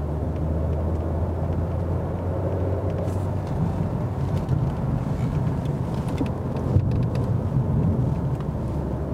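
Cabin of a Mercedes C-Class Cabriolet while accelerating, a steady low road and engine rumble with a broad wind hush, fairly even throughout.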